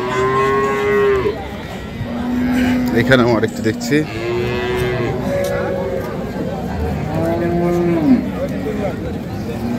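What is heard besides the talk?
cows mooing at a cattle market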